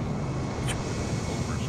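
An airliner climbing out of Liverpool's John Lennon Airport in Flight Simulator, its engines producing a steady, broad roar that holds at a constant level throughout.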